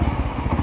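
A tricycle motorcycle engine with a knocking fault runs close by, a rough, rapid chugging rumble with uneven thuds in a brief burst.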